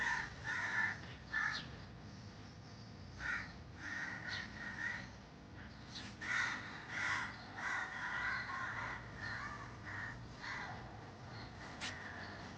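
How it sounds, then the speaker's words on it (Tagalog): Crows cawing on a rooftop garden, a run of harsh repeated caws from several birds, some near and some farther off, in irregular bursts over a quiet background with no talking. "Very friendly ang mga uwak dito,"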